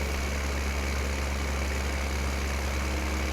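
A tractor engine idles in Farming Simulator 15, a steady low drone that stays even and close for a few seconds with no voices.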